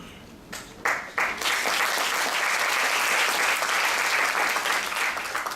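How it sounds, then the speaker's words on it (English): Graduation ceremony audience applauding students receiving diplomas, starting with a few scattered claps and then swelling into sustained, dense clapping from a large crowd. "please show your love and appreciation by applauding them"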